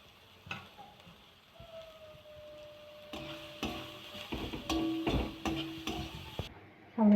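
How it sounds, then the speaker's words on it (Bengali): Vegetables frying in a pan with green chillies before carrots go in, a low steady sizzle broken by sharp clinks and scrapes of a utensil stirring against the pan, growing busier toward the end. "সব একটু ভাজা ভাজা হয়ে গেছে, আমি এবার গাজর দিয়ে দেবো"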